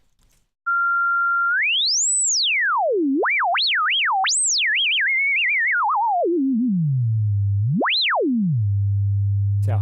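A pure sine oscillator programmed in SuperCollider, loud and alone, sweeping smoothly up and down in pitch through swooping glides and wobbles, then settling into a steady low hum that continues to the end.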